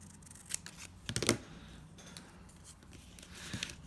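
Scissors snip through paper printed with pink monarch designs at a papercraft table, a few quick close cuts clustered near the middle of a quiet stretch, with faint rustling before and after.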